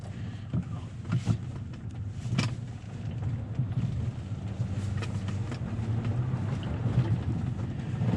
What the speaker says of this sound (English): So this little 3-liter diesel, it's not fast by any means, but it's not super slow either.